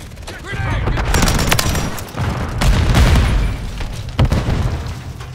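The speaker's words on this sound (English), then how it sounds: "Using tear gas! Grenade!" Grenade blasts and rattling gunfire in Call of Duty Modern Warfare 3 multiplayer, loud booming bursts and crackling shots packed densely together, with game voice callouts mixed in.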